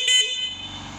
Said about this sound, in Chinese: 这是喇叭，